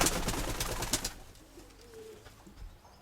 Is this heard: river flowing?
no